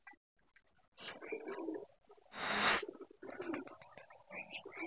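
A pigeon in its nest box gives soft, low cooing and rustling, close and quiet, rising to one brief louder whoosh midway, with faint whispery sounds around it.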